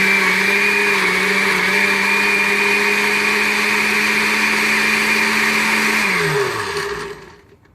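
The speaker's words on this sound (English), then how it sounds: "If there's not enough water in the blender," A blender whirs steadily as it chops wild lettuce in water, giving a loud, even motor drone that winds down and slows to a stop near the end.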